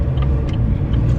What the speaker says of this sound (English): I'm grateful that that car didn't hit me just now.